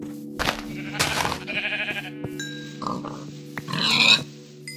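Pigs grunting in Minecraft, several short grunts and oinks scattered among other game sounds, with a sheep-like bleat near the end and busy background tones.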